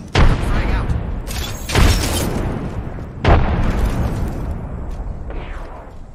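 Grenades explode in a military shooter game, three heavy booms spaced a second or two apart, each a loud close blast trailing into rumbling debris noise, with voices calling out between them.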